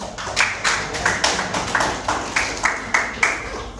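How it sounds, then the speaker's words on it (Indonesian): Classroom group clapping after a student presentation, a small number of hands striking in a loose, rhythmic series of distinct claps roughly every third of a second, close and moderately loud. "boleh tepuk tangan"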